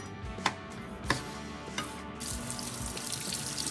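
Sharp knife chopping tomatoes on a cutting board for a salad: a few distinct cuts stand out at a steady pace, backed by a constant wash like running tap water near a kitchen sink.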